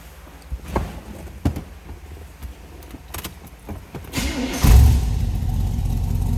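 A 1973 Chevrolet Corvette engine cranks and catches about four seconds in, then settles into a steady, loud idle after some faint clicks and handling noises.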